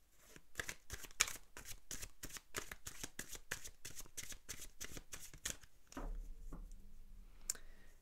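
Oracle cards are shuffled by hand in a quick, rhythmic run of crisp riffling snaps, close and clear, followed by softer handling as the deck settles.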